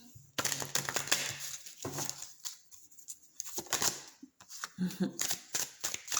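Rapid papery riffles and sharp clicks of cards being shuffled in several quick bursts, close by, with soft pauses between them.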